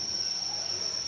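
Crickets trill in a steady, high, continuous chirp from an egg-tray cricket farm, up close and uninterrupted.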